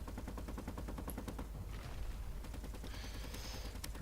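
Ship guns blazing in the Space Engineers video game, rattling out rapid, evenly spaced bursts of gunfire at moderate loudness with no talk over them.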